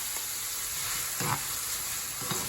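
Half a diced onion sizzling in a pan with oil while making ravioli filling, a constant hissing fry broken by two short scraping stirs of a utensil.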